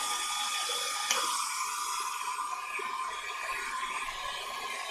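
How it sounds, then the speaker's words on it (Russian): A hair dryer blows over wet watercolor paint on paper at a drawing table, a steady close whooshing airflow with a constant hum that runs unbroken throughout. "То есть я включаю фен."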